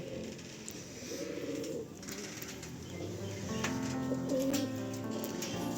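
Pigeons coo in a rooftop pigeon loft, soft low repeated calls from several birds close by, with brief wing flutters and a faint murmur of background noise.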